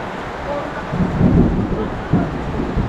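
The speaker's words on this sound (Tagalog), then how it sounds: "Ayan, umulan." Rain falls steadily while low thunder rumbles through it, the rumble swelling twice and then easing back into the constant hiss of the downpour.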